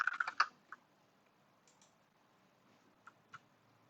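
Quick burst of computer keyboard typing for a web search, a rapid cluster of clicks followed by a few isolated keystrokes, close and quiet.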